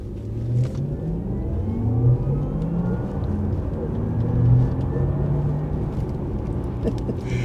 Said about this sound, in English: You can hear the electric motor. The motor is designed to feed that sound back into the cabin, so you can actually hear the whirring, the ramp up of the motor